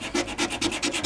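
Coarse 80-grit sandpaper scrubs paint off a car hood in quick back-and-forth strokes, about five rasping passes in a second, close and loud with no voices.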